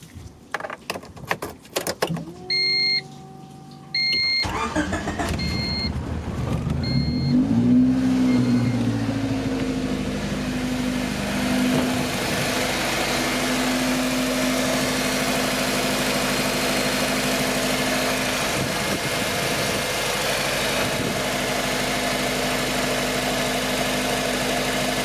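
A Honda CRX's B16A engine cranks and catches after a few seconds of key jingling, then settles into a steady, close idle that runs on alone at an even level.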